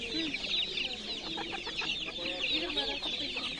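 Chickens at a market clucking and squawking in a busy, overlapping chorus, close and continuous, with faint voices in the background.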